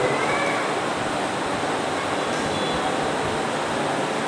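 Running water pours in a constant, loud, broad rush with no breaks, close by and alone.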